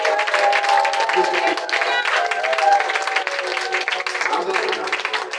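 A church congregation applauds and cheers with loud, continuous clapping and raised voices throughout.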